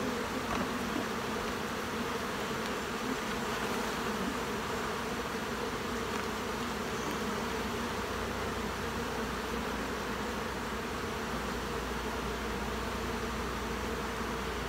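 Honeybees hum around an open hive during an inspection, a dense, steady buzz that stays close and continuous, with no voices.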